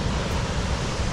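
A large waterfall on a big river at Bishoftu roars as a brief, steady wash of loud, dense rushing water with no pauses.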